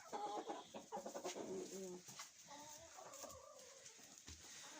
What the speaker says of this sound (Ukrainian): Сидить квочка і не ворушиться.